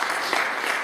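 A church congregation applauding, a brief burst of dense, steady clapping.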